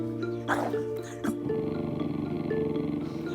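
A dog on a couch growls, a low rumbling snarl that rises in short bursts and then continues steadily, close and fairly loud, with brief vocal sounds overlapping.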